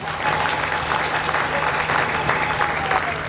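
A church congregation applauding during a preaching service, a steady dense wash of clapping from many hands that holds for the whole stretch, with faint voices mixed in.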